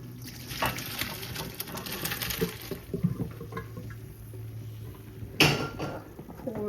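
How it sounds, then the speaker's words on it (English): Water pours and splashes out of a pot of cooked noodles with some clattering, ending in a brief louder gush near the end. "we're gonna pour off the water"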